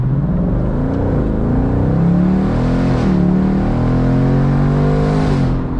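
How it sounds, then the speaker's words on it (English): A 2024 Mustang GT convertible's 500 hp V8 with the exhaust opened in sport mode, a loud close engine drone with rising and falling revs, pulling through gear changes alone without talk. "And as you can hear, it really opens that exhaust up."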